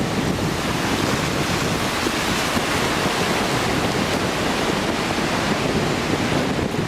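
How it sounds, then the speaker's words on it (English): Steady roaring wind blowing across an open seashore while fishing, buffeting the microphone with broad unbroken noise that may carry surf, loud and constant for the whole stretch with no voices. "The wind had got up"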